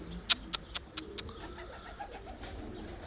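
A few sharp flutters and taps from pigeons landing close by on a roof, then soft pigeon cooing faintly in the background.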